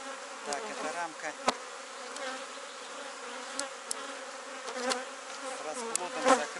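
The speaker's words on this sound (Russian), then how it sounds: "Здесь пчелки выходят." Honey bees buzz steadily at an opened hive while frames of brood are being checked. The drone is dense and continuous, with single bees passing close now and then, and no voices.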